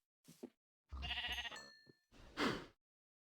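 Three Minecraft sheep bleat one after another, wavering, close-up calls, with short gaps between them and no other sounds.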